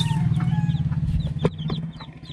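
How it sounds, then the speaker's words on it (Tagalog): Newly hatched chicks peck and cluck beside a mother hen, with a busy stream of high cheeping and clucking close by and no talking. "Papatukain ko din yung mga sisiw."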